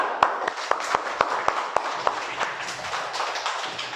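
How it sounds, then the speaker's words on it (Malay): Several people clap for a young boy in a live classroom session, with sharp, fairly close claps in a loose, uneven rhythm that thin out and soften toward the end, with no talk over them. "Bagi tepukan sikit."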